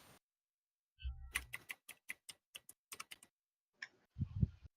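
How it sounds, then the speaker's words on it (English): Someone types on a computer keyboard in a quiet room, a quick run of about a dozen crisp separate key clicks in an uneven rhythm, followed by a brief rustle and a few softer taps. "Someone's typing something."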